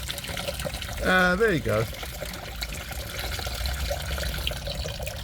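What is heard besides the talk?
antifreeze and water draining from Ford KA radiator into bucket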